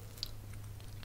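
Faint, close crunching bites on a hazelnut ice cream cookie cone, two brief crisp snaps over a low steady hum in a quiet room.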